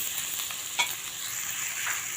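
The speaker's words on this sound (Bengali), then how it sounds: "দিয়ে এটা ভালো করে ভেজে নেব আলুটা" Potatoes with turmeric fry and get stirred in a pan, giving a steady close sizzle with one brief scrape of the spoon, no voices over it.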